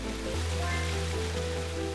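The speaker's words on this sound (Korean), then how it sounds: "가운데가 움푹 파인 절구 같다 하여 이름 붙여진 절구폭포" Waterfall at Juwangsan mountain, Jeolgu Falls, a steady broadband rush of falling water that holds constant throughout, with a deep low rumble and no voices.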